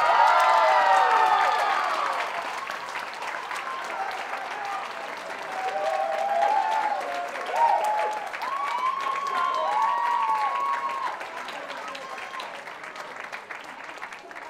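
A school sports awards audience applauds loudly for award winners, the clapping swelling and fading in waves with a few cheers mixed in.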